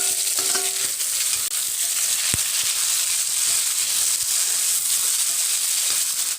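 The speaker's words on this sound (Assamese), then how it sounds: "এইখিনি মই এতিয়া পটল আৰু আলুৰ লগত অকণমান সময় ফ্ৰাই কৰি লম" Pointed gourd and potatoes fry in a pan with onion, ginger-garlic paste and dried and fresh chillies. A loud, steady sizzle hisses throughout, with a few faint stirring knocks and no talk.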